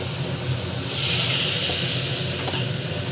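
Vegetables sautéing in a pan, a steady sizzle with a louder hissing surge as they are stirred, close and continuous.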